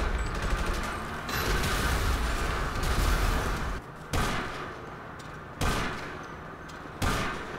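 Rapid bursts of automatic gunfire in GTA Online, loud and close, with a sustained volley followed by several short separated bursts and gaps between them.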